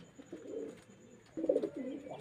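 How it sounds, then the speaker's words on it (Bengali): Pigeons coo softly in a pigeon sale shed where young birds are kept, low rolling coos in two short bursts, near but faint. "খুব ভালো পায়রার বাচ্চা আরও দুখানা আছে"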